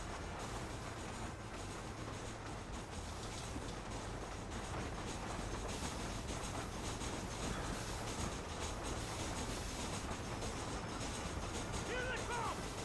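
Train rolling along in the video game Red Dead Redemption, a steady low rumble and rail clatter running throughout at constant level, with faint game sounds and some talk over it.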